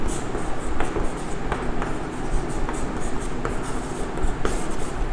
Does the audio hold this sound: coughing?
no